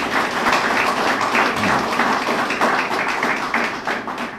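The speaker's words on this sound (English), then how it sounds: "Could we give her a round of applause." Applause from an audience at the closing ceremony of a regional security training course for section leaders, a steady wash of many hands clapping that carries on for several seconds with no voices over it.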